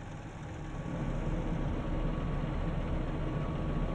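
A tractor engine in Farming Simulator 19 runs with a steady low rumble and hiss, rising slightly at the start and then holding a constant drone.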